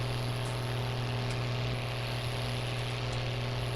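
Case tractor engine in Farming Simulator 19, a steady, loud, droning engine hum with a constant low tone and no change in pace, heard alone without talk.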